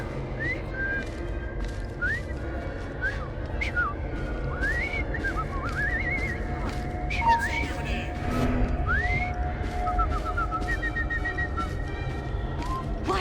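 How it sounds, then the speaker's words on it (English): A character in Assassin's Creed Syndicate whistles a wavering, tuneful line of rising and falling notes over a constant murmur of street ambience. "I've just learned to whistle."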